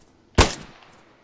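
A single sharp gunshot from a firearm in the DayZ video game, one loud close crack with a short decaying tail.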